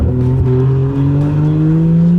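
A 1JZ turbo Toyota Soarer engine revs loudly and close, its steady throaty drone climbing gradually in pitch with a brief wobble early on.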